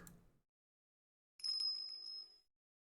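A bright, ringing bell chime from Ace Attorney Investigations 2 sounds alone after a moment of silence, shimmering with a few quick strikes before it rings out and fades.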